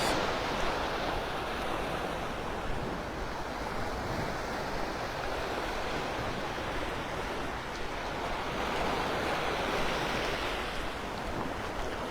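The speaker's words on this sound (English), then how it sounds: "standing here with my toes in the water, listening to the waves" Ocean surf washing steadily onto the sand at Delnor-Wiggins beach in North Naples, Florida, a continuous close wash of breaking waves with some wind, no voices.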